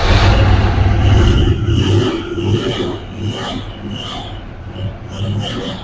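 Engine of a 1967 Chevrolet Bel Air station wagon, left sitting for over 30 years with a carburetor in need of rebuilding, rumbles loudly and is revved a few times before settling to a rougher, quieter running.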